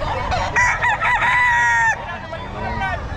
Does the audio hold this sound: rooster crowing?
yes